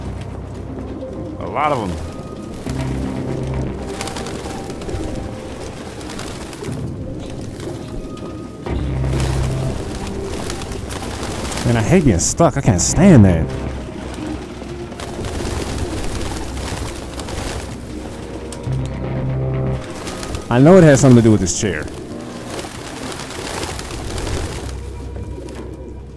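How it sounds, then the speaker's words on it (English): Pigeons coo in a recurring pattern of soft, throaty calls in the video game Detroit: Become Human, with louder bursts standing out, while someone talks over much of it. "These pigeons is crazy."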